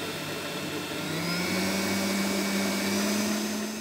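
A Kenwood Cooking Chef stand mixer whisks two egg whites at high speed, its motor whirring loudly and steadily as the pitch rises once it is sped up, with no talking.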